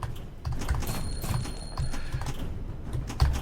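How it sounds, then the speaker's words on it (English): Hollow clip-clop horse hoofbeats in a Batman video game, steady in rhythm and fairly close, over a dense low background, with a brief high electronic tone partway through. "So you can hear the horse there, can't you?"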